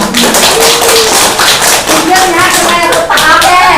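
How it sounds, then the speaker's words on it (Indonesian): Clapping from participants at a small-business management training session, loud close-up patter of hands with cheering or voices mixed in throughout the few seconds. "tepuk tangan dong"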